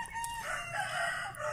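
Black Australorp and Rhode Island Red chickens cluck and crow nearby in a short, busy burst, with a rooster's crow rising over steady hen clucking and no speech.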